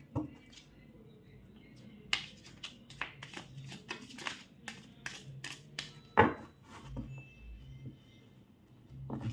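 Oracle cards drawn from a deck and shuffled, making a run of crisp, close clicks and snaps with short papery riffles between them, quiet and unaccompanied by speech.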